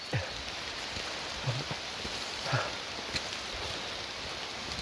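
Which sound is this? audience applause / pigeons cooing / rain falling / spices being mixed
rain falling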